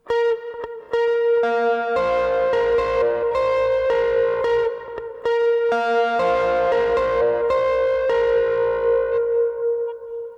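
Electric guitar plays a repeating lead riff with effects, quick picked notes over ringing lower tones, loud and close without any voices.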